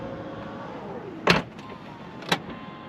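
A 2023 Volvo XC40 Recharge's power trunk lid closes with a short motor whir, then two distinct thuds about a second apart, the second softer, heard up close without talk.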